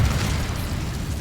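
The Incendio fire spell cast in the game Hogwarts Legacy erupts as a short, dense whooshing blast with a deep rumbling low end that stays loud for its whole brief length.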